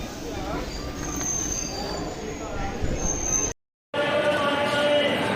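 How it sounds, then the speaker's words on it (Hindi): A train rumbles steadily into Rampur Junction railway station in India, with faint high wheel squeals over a constant noisy background, then a brief dropout before the noise resumes. "ट्रेन पहुंच चुकी है Rampur railway station, junction railway station"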